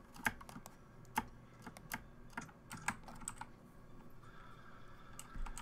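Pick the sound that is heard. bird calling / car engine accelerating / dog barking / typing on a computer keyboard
typing on a computer keyboard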